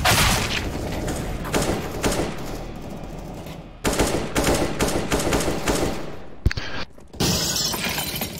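A grenade goes off in CS:GO amid rapid gunfire, with a harsh shattering burst and booming shots in quick clusters, loud and close, broken by a couple of brief near-silent gaps.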